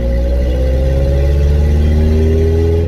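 A car engine and exhaust rev steadily with a deep, loud rumble and rising drone, running continuously up close without any voices.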